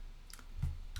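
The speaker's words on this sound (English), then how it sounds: "you can hold shift and just left click" Three faint, sharp computer mouse clicks spaced roughly evenly across a short stretch, close but quiet over a low background hum.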